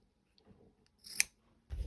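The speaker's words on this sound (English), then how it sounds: "And then I'm going to just take my fabric scissors and cut it there." Fabric scissors snip through denim binding in a single crisp cut, close and quiet, followed by a soft handling thump in an otherwise still room.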